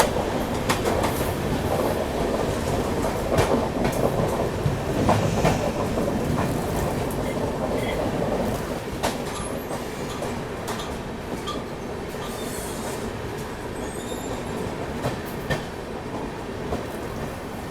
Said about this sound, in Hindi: हजरत निजामुद्दीन पुणे दुरंतो एक्सप्रेस।